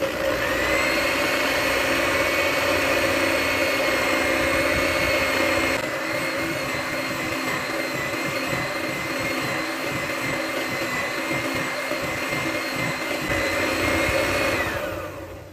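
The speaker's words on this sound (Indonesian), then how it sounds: "Lalu masukkan tepung terigu, kocok, dicampur rata, jangan terlalu lama." An electric hand mixer beats cupcake batter with wheat flour mixed in, a loud, steady motor whine that runs unbroken for about fifteen seconds before it cuts off.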